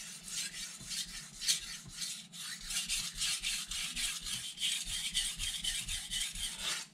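A blade scrapes repeatedly across a Miyagoshi whetstone, a steady rhythm of gritty rasping strokes, close up and even in loudness, with no talking.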